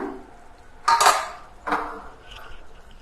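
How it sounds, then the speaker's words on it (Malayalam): A utensil scrapes and clinks against a pan twice as banana pieces are stirred in coconut milk. The two short, close bursts come over a quiet background. "ഇടയ്ക്ക് നമ്മൾ ഇതുപോലെ ഒന്ന് ഇളക്കി കൊടുക്കണം."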